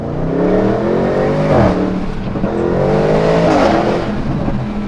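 A V6 SUV engine revs up twice with a throaty, rising growl, loud and close, each pull climbing in pitch before easing off.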